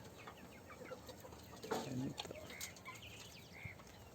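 A flock of native chickens that chase and peck one another gives off steady low clucks, with a louder squawking flurry in the middle and a few sharper calls toward the end.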